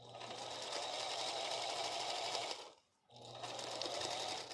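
A small domestic sewing machine stitching fabric pieces for a scrappy quilt, running in a steady fast whir with a brief pause near the end before resuming.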